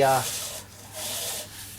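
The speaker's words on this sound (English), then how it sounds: "anytime I feel that I've done enough sanding on the piece" Soft rhythmic rubbing of sandpaper on spinning wood, two or three brief hissing passes, fairly quiet and close.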